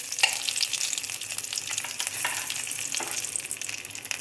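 Cumin seeds and curry leaves sizzle in hot oil for a Kathiyawadi baingan bharta, a steady close crackling fry with spitting bursts and no voices.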